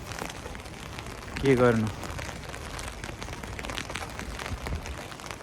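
Heavy rain falls in a steady broadband patter on surfaces. A person speaks briefly, with the voice rising above the downpour for a moment.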